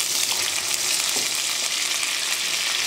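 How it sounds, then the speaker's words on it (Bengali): Two large potatoes, peeled and cut into pieces, frying in hot oil, a dense, loud, continuous bright sizzle holding steady from start to finish, close up and without talk. "এবার আমি এর মধ্যে দিয়ে দিচ্ছি বড় সাইজের 2টো আলু"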